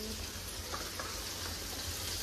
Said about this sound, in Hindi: तो मम्मी क्या बना रही है, देखो आलू जीरा नहीं, आलू फ्राई